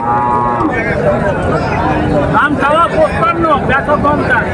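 Cattle, including Sahiwal and local heifers and calves, moo repeatedly at the crowded Ranigonj livestock haat in Ghoraghat, Dinajpur, with loud nearby lows over steady chatter from buyers and sellers.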